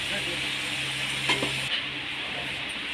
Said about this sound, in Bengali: এবার ওই তেলের মধ্যে কেটে রাখা আলুগুলো ভেজে নেব।